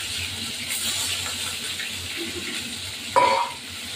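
Onion going into a hot pan for mutton curry, a continuous watery sizzle and hiss with a brief louder burst of sharp sizzling and clatter near the end before it settles down.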